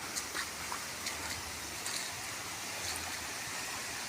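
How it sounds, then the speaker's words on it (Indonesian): River water pumped up to water durian trees and seasonal plants pours in a steady rushing, splashing stream, close and constant with no voices. "Jadi ini adalah air sungai yang saya naikkan."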